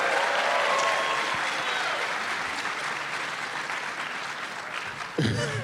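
Sustained applause from a convention panel audience at a Power Rangers anniversary event, a dense, loud roar of clapping that slowly tapers, with a voice cutting in near the end.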